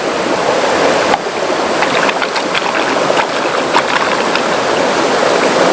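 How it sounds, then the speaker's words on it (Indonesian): Water flowing steadily through a rice field irrigation channel, a continuous broadband rushing and babbling close by, with a few faint splashes and no talk. "kebetulan di sini ada saluran air buat pengairan pesawahan."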